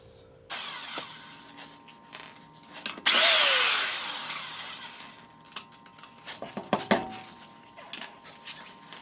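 An impact or power tool spins off the 17 mm lug nuts on a 2014 BMW X3 during a brake job, with a loud whirring burst, a falling whine, then scattered clinks and rattles from the wheel and nuts.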